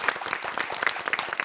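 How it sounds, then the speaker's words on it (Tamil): A studio audience of a Tamil TV show claps loudly and continuously, a dense burst of applause close to the microphone with a faint voice buried beneath it. "நீங்க உற்சாகமா இருக்கிறத ஒரு நல்ல ஒரு பலத்த கைத்தட்டல் கொடுத்து நிரூபிக்கலாம்."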